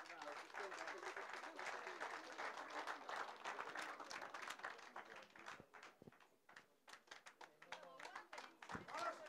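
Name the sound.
applause for the team from Zimbabwe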